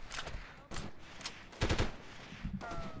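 Sniper gunfire from the 1998 video game Delta Force, several sharp loud cracks spaced irregularly with echoing tails, one brief metallic ring near the end and no talking.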